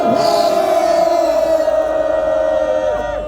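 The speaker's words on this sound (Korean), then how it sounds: "함성 5초 외치겠습니다. 함성 시작!" A large crowd at an outdoor rally shouts together in one sustained, loud roar of massed voices that holds steady for several seconds before easing off.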